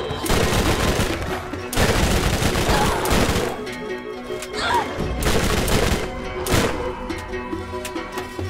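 In the video game Borderlands, an SMG fires in loud, rapid bursts at close range, with short pauses between volleys and some crashing impacts.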